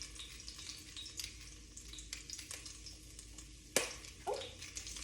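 Quiet, crackling sizzle of ginger frying in clarified butter, with scattered pops and a sharper spatter near the end.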